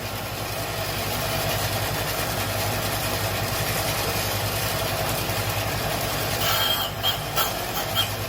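Steady machining of a 331 Hemi connecting rod, a continuous mid-level whirring and grinding drone with a constant motor hum that holds evenly throughout, ending in a few light clicks.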